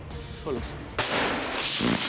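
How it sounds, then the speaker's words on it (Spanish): Several sharp cracks of gunfire ring out at a distance, a burst followed by single shots, with a voice speaking underneath. "Hay algunas ráfagas han llegado y algunos disparos"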